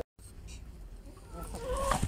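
Backyard laying hens clucking at close range, soft continuous murmuring clucks that rise into louder calls toward the end, no talk.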